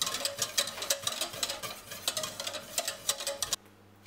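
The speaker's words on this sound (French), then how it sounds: "Il faut bien remuer partout pour éviter que ça brûle." Pastry cream is stirred with a utensil in a saucepan over medium heat, giving rapid, close scraping and tapping strokes that continue steadily, then stop abruptly.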